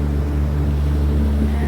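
A motorboat cruises up Pendrell Sound on a steady afternoon run, its engine a continuous low drone with a constant hum and some wind noise over the microphone, with no talk.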